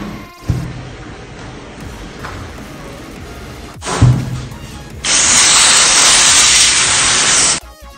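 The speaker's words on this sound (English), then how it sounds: "at this point I'm using my spray paint on my hat" Spray paint hisses from a can onto a sinamay hat: a few short bursts, then one long, loud, steady spray lasting about three seconds, close to the listener.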